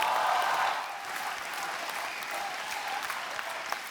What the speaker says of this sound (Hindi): तो आप सबकी जोरदार तालियों के बीच बुलाना चाहूंगा हमारे मुन्ना माइकल